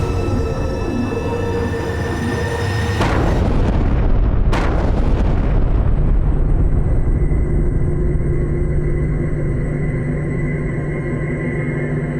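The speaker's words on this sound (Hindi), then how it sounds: "हम इस विस्फोट में मरने वाले थे।" A heavy, close blast of buried gunpowder erupts after a few seconds of rumble, with a sharp second burst, then a long roaring rumble and debris wash that stays loud to the end.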